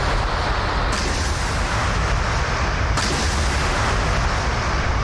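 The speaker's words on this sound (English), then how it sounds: "And again, the Panzer Kashan's still firing." A Pantsir air-defense system fires missiles during a simulated naval battle between 2027 UK and Russian carrier groups in DCS, a dense, continuous roar of launches and rushing noise with two sharp bursts, loud and unbroken, no speech.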